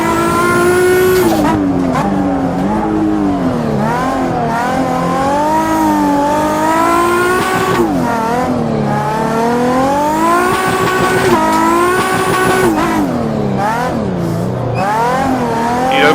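A turbocharged car drifts using the handbrake and a Scandinavian flick, its engine loud and close, revving up and down repeatedly in rising and falling sweeps with bursts of tire squeal over about sixteen seconds.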